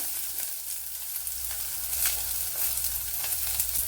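Sliced onion sizzling steadily in hot oil in a Kerala home kitchen, a continuous close crackling hiss with small pops, no talk.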